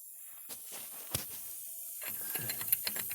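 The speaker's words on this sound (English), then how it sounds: "I'm just going to slide this pipe on the end of my ratchet" A ratchet fitted with a pipe extension works a rusty rear brake caliper bolt on a 2014 Kia Sorento, giving faint, scattered metallic clicks and creaks that grow busier toward the end, with no talking.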